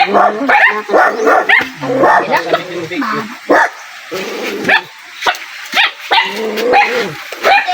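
A dog barks repeatedly at close range, with sharp yips and some whimpering mixed in, in irregular bursts.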